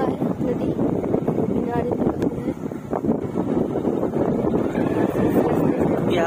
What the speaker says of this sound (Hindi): यहाँ पर बहुत ही तेज हवा है